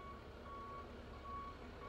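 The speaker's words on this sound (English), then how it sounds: "Okay, we got a truck, garbage truck right here." Garbage truck reversing alarm sounding as steady, evenly spaced electronic beeps over a constant low engine rumble, close by and alone with no talking.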